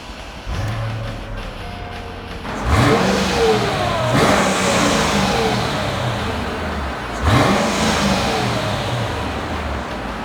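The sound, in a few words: Mercedes SL500 engine starting and revving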